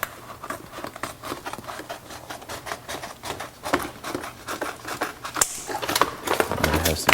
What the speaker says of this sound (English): I have some scissors. And then what I do is I kind of start cutting it into pieces.